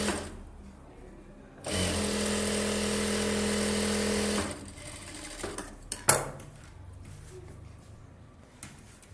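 A sewing machine stitches a blouse in a tailoring shop, running in one steady, fairly loud burst of about three seconds before stopping, followed by a few light clicks and handling noises.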